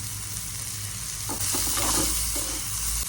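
Shredded cabbage cooking in a pan over a low flame with onion and green chilies, a soft steady sizzle with a few scraping stirs partway through.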